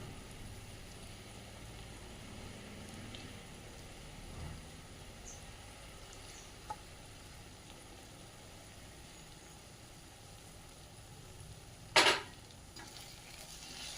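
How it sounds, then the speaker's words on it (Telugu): Boiled capsicum fries with spice powder in a pan for capsicum rice, making a soft, steady sizzle. A single loud metallic clank from a utensil sounds near the end. "దీనిని కూడా ఒక టూ మినిట్స్ అలా ఫ్రై చేసుకోవాలి"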